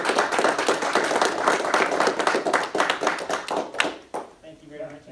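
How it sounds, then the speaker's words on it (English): At a talk on cryptocurrencies, the dollar and global finance, the audience applauds a speaker named Brent with a dense burst of clapping that holds for about four seconds and then trails off into a voice speaking. "Can we get a round of applause for Brent?"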